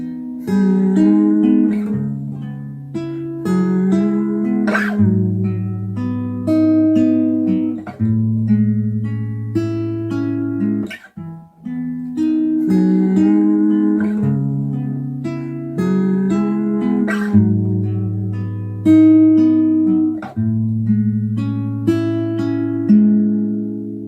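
Acoustic guitar strumming the chord progression of a song, a steady, clear, sustained run of chords played alone at close range with no talk.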